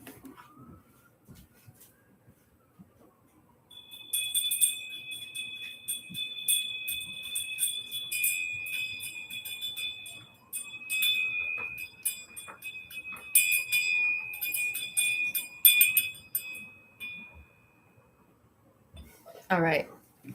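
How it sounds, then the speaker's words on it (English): A small bell rings with a clear, sustained ringing tone and a rapid tinkling shimmer for roughly fourteen seconds. It is preceded by quiet rustling and followed by a voice. "Let me ring the bell."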